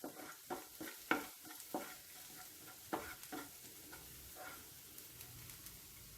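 Garlic sautéed in a pan for creamy garlic chicken, heard as quiet, irregular spatula scrapes and taps over a faint low sizzle, with no voices.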